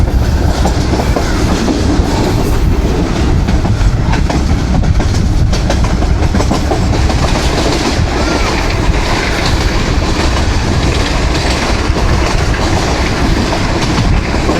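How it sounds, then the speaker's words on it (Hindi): Millat Express passenger train rolling on rails into Mandi Bahauddin, with steady loud clickety-clack of wheels over rail joints and continuous rumble from inside the carriage. "दोपहर के 12 बजे ट्रेन हमारी दाखिल हो रही है मंडी बहाउद्दीन शहर के अंदर"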